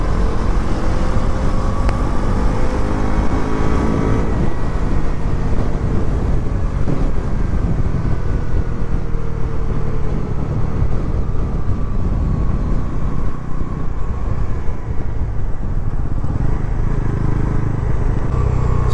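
A Bajaj Pulsar NS400Z motorcycle engine drones loudly while riding, a sustained rumbling roar with rising and falling pitch under heavy wind rush, no voices.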